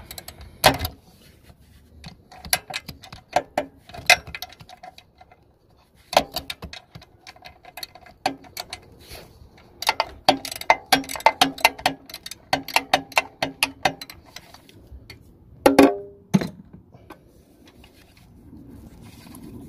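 A ratchet wrench loosening a bolt on the cooling fan of a 2005 Toyota Prius, with quick clicking bursts of ratcheting strokes and pauses between, close up with no talk.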